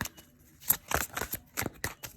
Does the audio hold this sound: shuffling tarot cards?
yes